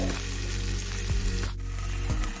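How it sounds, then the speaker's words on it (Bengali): Broccoli stir-frying in hot oil in a pan, a close, dense sizzle with a few brief scraping or stirring movements, no talking. "এরপরে আমি এটা দিয়ে দিলাম ব্রকলিটা একটু ভাজা ভাজা করে নেব"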